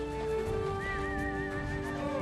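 A horse leads a nomadic herd through deep snow on the way to winter pasture in remote Siberia, giving a wavering, whistle-like whinny over a steady wind-filled background.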